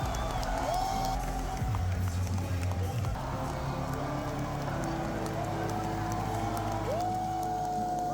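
Large crowd at the VCT Valorant grand finals in London, a dense, steady roar of cheering and voices filling the arena, with occasional rising whistle-like tones over the continuous noise.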